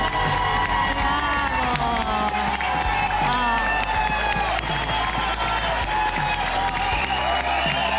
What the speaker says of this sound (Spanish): El aplauso es para ti, Stephanie Trejo.